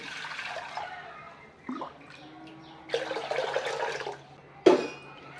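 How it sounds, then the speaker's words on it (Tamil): Water poured into a bowl for washing greens for a Tamil weight-loss soup: close splashing and trickling in several separate pours, with gaps of quiet between them and one sharp splash near the end. "இந்த கிளாஸில் வந்து ரெண்டு கிளாஸ் வந்து தண்ணீர் சேர்த்துக்கிறேன்"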